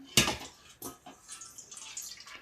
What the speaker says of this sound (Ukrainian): І беремо миску, в якій будемо вимішувати борошно. Вливаємо миску в воду